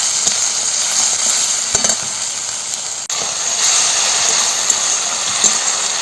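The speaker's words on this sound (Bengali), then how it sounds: "জিরে আর ধনে বাটা লঙ্কা বাটা পরিমাণ মতো হলুদের গুঁড়ো এবং মশলাটাকে ভালো করে কষে নিচ্ছি" Cumin and coriander paste, chili paste and turmeric masala sauté in a pan with a loud, steady hissing sizzle, broken by a few brief stirring clatters.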